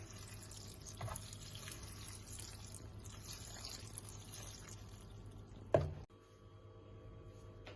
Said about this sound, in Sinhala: මම මේකට ඇල් වතුර පොඩ්ඩකුත් එකතු කරනවා.